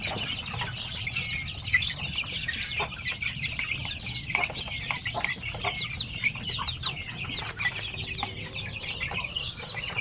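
A crowd of native Zampen chicks, about six weeks old, peep constantly and densely in a steady high chorus with low rustling below, close and unbroken throughout.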